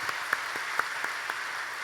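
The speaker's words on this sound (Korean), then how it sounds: "박수 보내드리겠습니다." A church congregation applauds a newly appointed member at a Sunday worship appointment ceremony, giving a brief, moderate round of clapping with distinct individual claps in a room.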